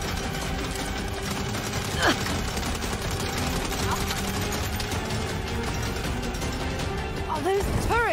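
Turret gunfire in the Saints Row video game during a desert convoy assault, heard as a continuous dense rattle of rapid shots mixed with engine and game noise, with a louder burst near the start.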